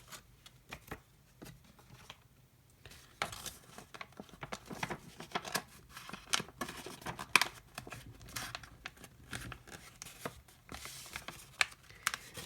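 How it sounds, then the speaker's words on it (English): Paper is creased and folded by hand with soft crinkling, rustling and sharp little creasing snaps, quiet and close, coming in irregular bursts. "So you're just gonna fold that entire thing down."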